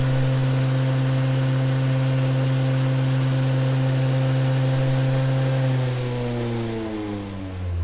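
A 48-volt DC motor driven from the output of a Newman motor setup, with battery and capacitor, runs with a steady loud hum and whir that shifts and slows slightly near the end.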